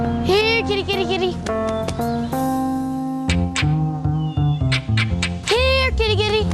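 A cat meows in several rising and falling cries, loud and close, over a dense harmonic background that sounds like music.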